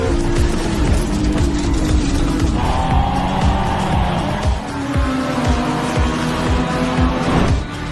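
Race cars roar around a curve in a race, loud overlapping engines with tire squeal and repeated rapid pass-bys, sustained and near with no voices.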